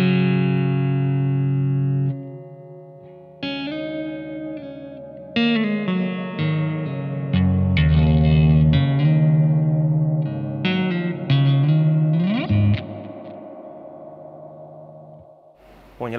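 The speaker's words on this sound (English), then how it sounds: "when you hold it down, it freezes and repeats that reverb" Sustained guitar chords ring through a Blackstar AMPED-1 100-watt pedalboard amp with a reverb freeze effect, held shimmering washes layering under new distorted notes in stepped bursts, swelling and bending before cutting out.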